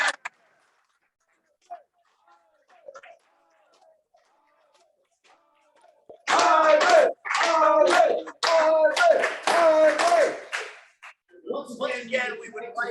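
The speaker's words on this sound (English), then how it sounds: "can we give one more round of applause?" Audience at a roast in a tavern claps for the roasted man, a mostly quiet stretch with a few faint sounds, then loud close bursts of hand claps mixed with cheering voices and chatter.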